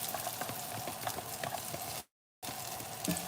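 Egg with green onion sizzles and crackles in a hot skillet, a steady close frying hiss with small pops and a short break of silence midway.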